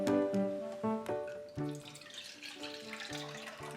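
Water poured by the half cup into a diaper filled with absorbent polymer, a splashing trickle with tonal ringing, close and moderately loud, no talk.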